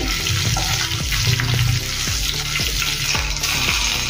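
Hand-broken dried red chillies roast in hot oil with a dense, loud, continuous crackling sizzle, while repeated scraping strokes of a spoon against the pan come through up close; no one speaks.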